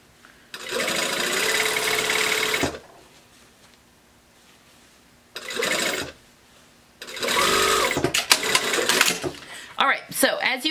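A sewing machine stitches basting tape onto a pencil skirt: three bursts of steady, close mechanical whirring, the first about two seconds long, separated by quieter pauses, with some handling clatter at the end.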